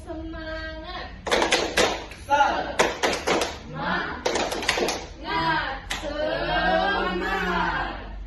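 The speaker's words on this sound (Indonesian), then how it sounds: "Tepuk semangat." Elementary schoolchildren in a classroom stand and do a rhythmic spirit clap, with sharp clustered claps in patterned bursts mixed with chanting voices and an adult speaking at the start.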